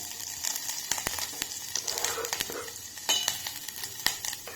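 Ingredients sizzle in ghee in a pan for ginger garlic soup, a crackling fry broken by sharp scraping stirs and clicks of a utensil, fairly close and busy throughout.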